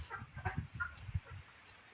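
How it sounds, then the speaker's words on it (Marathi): Soft, low clucking from a few chickens, quiet and a little distant, in short irregular bursts. "बघा आमचे तीन कोंबड्या राहिल्यात"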